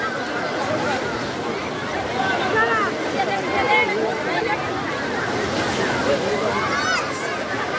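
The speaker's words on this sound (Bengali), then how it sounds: "কোথা থেকে প্রচুর লোক চলে এলো হঠাৎ করে স্নান করতে দেখো" A crowd of people bathes and splashes in the sea at Digha beach, with continuous sloshing and churning water under a steady babble of many voices and occasional shouts nearby.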